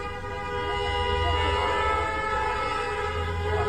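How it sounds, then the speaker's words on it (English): Car horns blaring together on a street as people honk at passers-by, several held tones overlapping in a steady, continuous wall of sound at moderate distance. "Everybody standing up to honk at them."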